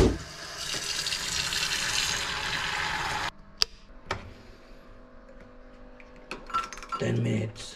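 Water runs from a kitchen tap into cookware for boiling eggs, a close, steady hissing splash that stops abruptly partway through, followed by a few light clicks and clinks of handling.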